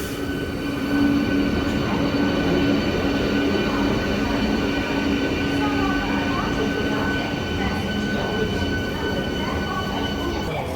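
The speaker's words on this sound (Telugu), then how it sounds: "మన ట్రైన్ అయితే వచ్చేసింది ఎంఈఎంయూ ఐసిఎఫ్." A MEMU local train with ICF coaches pulls into a three-platform railway station, a steady rumble of wheels and carriages with a faint squeal, sustained and fairly close throughout.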